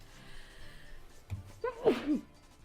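A single sharp sneeze bursts out after a quick inhale, close and fairly loud against a quiet room.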